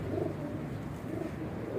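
Domestic pigeons kept as breeding pairs coo softly and continuously at close range, a low, rolling murmur of overlapping calls with no talking.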